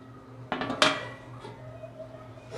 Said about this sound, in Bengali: এবার আমি এটাকে ঢেকে দেবো।